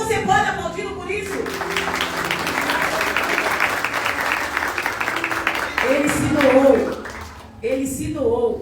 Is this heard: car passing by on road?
no